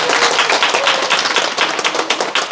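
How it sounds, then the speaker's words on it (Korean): An audience at a talk claps with quick, dense, closely spaced hand claps that run for a couple of seconds, loud and close, with no speech. "박수 한번 치세요."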